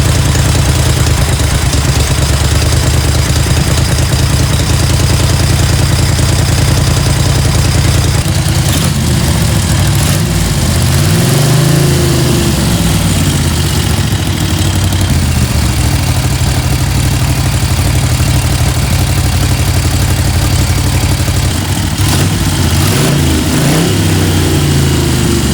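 Moto Guzzi Le Mans Mk1 motorcycle engine running after tuning, a loud, steady, close idle with a lumpy low throb and occasional brief blips of the throttle, with no talk.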